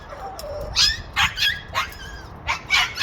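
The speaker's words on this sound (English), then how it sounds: "Sorry about that, that's the dog." A dog barks and whimpers in a series of sharp yelps and cries at close range, about five or six bursts over a few seconds with a faint low rumble between them and no talking.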